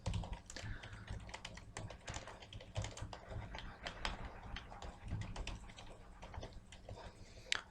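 Fast typing of React JavaScript code on a computer keyboard, a steady stream of close, crisp key clicks with irregular rhythm, quiet overall with a faint voice underneath.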